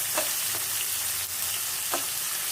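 Potatoes fry in a pan for a rohu fish curry, a steady close sizzle of hot oil broken by a few soft stirring scrapes.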